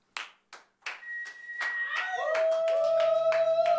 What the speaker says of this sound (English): Big round of applause, both here in the stadium and also back at home